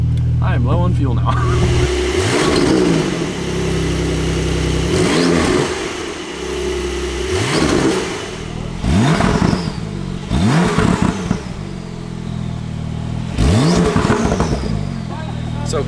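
Indoors with strong echo, a Porsche 992 Turbo S fitted with a titanium exhaust idles and blips its throttle repeatedly, about five sharp, loud revs each rising and dropping back to a rumbling idle.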